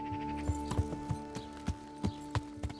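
A horse's hooves clip-clop at a steady walking rhythm in the medieval video game Kingdom Come: Deliverance, about nine distinct thuds over a constant low tonal game hum.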